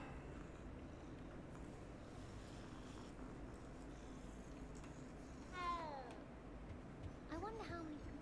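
A cat in the Hogwarts Legacy video game gives two brief, faint meows a little apart over a steady low background hum.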